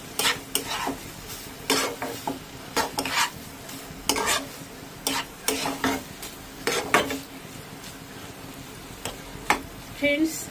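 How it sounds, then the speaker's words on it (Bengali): Banana blossom curry with prawns and ghee being stirred in a pan, a steady series of close scraping strokes over a soft sizzle, with occasional light clinks of the utensil against the pan. "আবার একটু নাড়িয়ে চাড়িয়ে নিই।"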